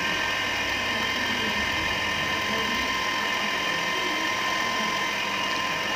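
An electric mixer whirs continuously at close range, beating egg yolks into a soft nastar cookie dough, a steady mechanical drone throughout.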